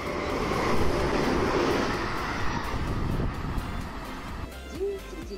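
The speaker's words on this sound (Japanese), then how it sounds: "またまた新快速電車がやってきました。" Broad rumbling roar of a JR 223 series rapid electric train pulling into Nishi-Akashi station, loud at first then easing, with faint voices and a brief tonal chime near the end.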